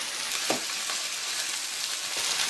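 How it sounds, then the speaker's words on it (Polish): Chopped onion fries in a pan, a steady close sizzle with occasional soft stirring scrapes and no talking. "I teraz cebulę będę podsmażać do zrumienienia."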